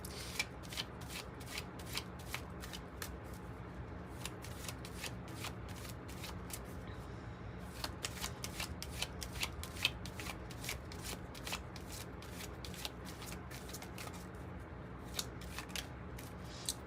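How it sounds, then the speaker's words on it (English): Kipper card deck being shuffled by hand, a long run of crisp, rapid riffling clicks and flutters repeating steadily at close range, fairly quiet with no talking. "Let's pull some from the Kipper deck"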